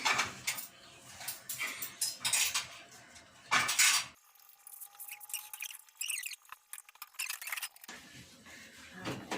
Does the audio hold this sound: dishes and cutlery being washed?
yes